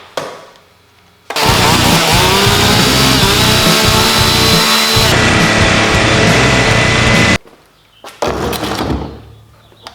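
A loud, harsh chainsaw engine roars steadily for several seconds, stops abruptly, then revs again briefly after a short pause.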